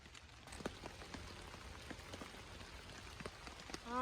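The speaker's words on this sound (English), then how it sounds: "Oh yeah, it's raining a bit." Light rain falls steadily at a bushcraft camp during a rainstorm, a soft, close pattering of drops on surfaces that continues throughout at low volume, with no voices.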